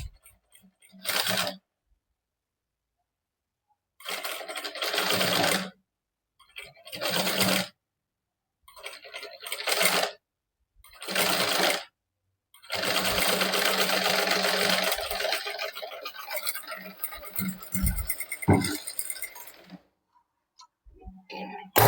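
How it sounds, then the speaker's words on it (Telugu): A sewing machine stitches the curved back of a princess-cut blouse in several separate bursts, short runs at first and then a long continuous stretch, close and clear with quiet pauses between. "పాదం పైకి పెడుతూ ఈ విధంగా స్టిచ్ చేసుకోవాలి"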